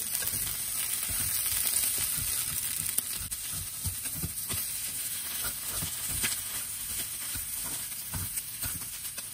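Soya meat chunks sizzling and frying in a pan for grilling, a continuous hiss with soft clicks and spatters, close and steady with no talking.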